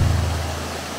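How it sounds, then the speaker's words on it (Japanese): Waterfall spilling into the pond at Kasumigaoka castle ruins in Nihonmatsu, Fukushima, swollen after heavy rain; a steady, close broadband rush of falling water with a low rumble, continuous and alone. "滝になってます。"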